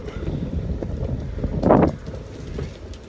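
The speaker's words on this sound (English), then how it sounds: "this whole windy thing needs to stop." Gusty wind buffets an outdoor microphone with a steady low rumble, swelling into a louder, harsher gust midway before easing back to a continuous blustery background.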